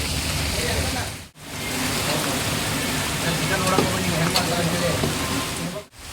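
Loud, steady downpour roaring continuously, with a brief drop-out partway through and again near the end.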